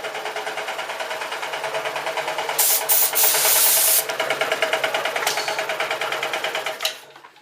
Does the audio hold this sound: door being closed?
no